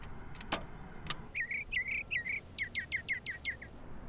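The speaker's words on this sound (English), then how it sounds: "Mockingbird." Mockingbird call from a bird-calls phone installation, a varied run of bright chirps and repeated trilled phrases after a couple of sharp clicks, fairly close and clear.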